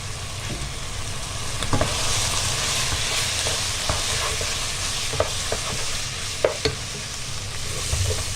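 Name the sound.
stirring onions into sauce in a pan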